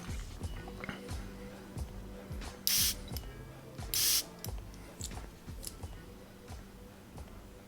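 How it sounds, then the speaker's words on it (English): A Kajal IV perfume atomizer gives two short, crisp sprays about a second apart, heard close and clear over faint background ticking and handling noises. "I just want to show you guys once again how the sprayer works."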